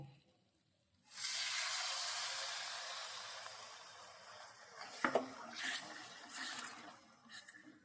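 A small splash of water poured into a frying pan of pointed gourd and prawn curry, setting off a loud, steady sizzle that holds for several seconds, followed by a brief clatter and softer bubbling.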